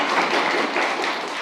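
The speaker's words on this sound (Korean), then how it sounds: "박수 한번 주세요" An audience at a senior film-and-humanities talk in a public library claps together, a dense, steady wash of applause that holds at an even level for its whole length with no voices over it.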